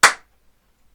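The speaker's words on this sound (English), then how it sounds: "the last one again starts with a clap" A single sharp hand clap from a primary music lesson clap pattern, close and crisp, decaying quickly into near silence.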